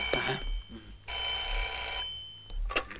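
An old telephone bell rings indoors in two clear bursts, each about a second long and loud, with short gaps and a faint rattle between them.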